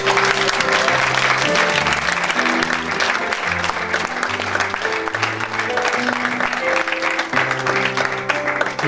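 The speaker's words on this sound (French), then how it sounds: "Est-ce que quelqu'un peut applaudir pour Dieu?" A church congregation claps loudly and continuously for God during a French-language sermon, the dense applause running over sustained musical tones underneath.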